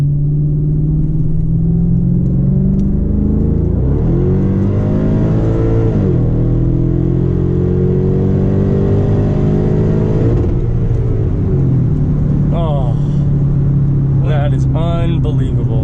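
A 2013 Hyundai Genesis 5.0 R-Spec accelerates hard in third gear in manual mode, its engine climbing loudly and steadily from inside the cabin, with a brief voice near the end.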